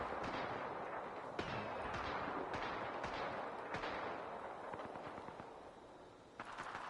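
Gunshots echo through an Apex Legends match as a quiet run of scattered cracks and bursts, some sharper and nearer, over a muffled rumbling background that fades slightly toward the end.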